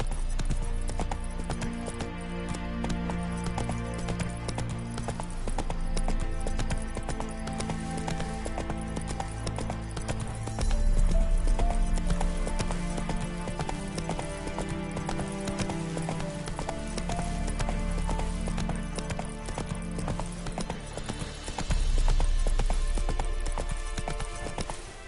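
Hooves of the horse Roach galloping in The Witcher 3: Wild Hunt, a rapid steady clip-clop set against loud, busy game music and ambience.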